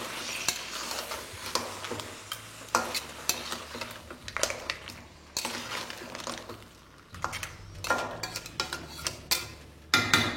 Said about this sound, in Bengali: এবার গ্যাসের ফ্লেমটা মিডিয়াম করে এটাকে ভালো করে মেশাতে থাকুন।